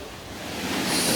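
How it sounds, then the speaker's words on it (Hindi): Waterfall spilling beneath a double-decker living root bridge, a steady broad rush of falling water that swells slightly louder toward the end, with no voices. "उसके नीचे एक वाटरफॉल है जो कुछ इस तरीके से दिखता है"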